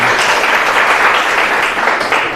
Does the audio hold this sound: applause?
yes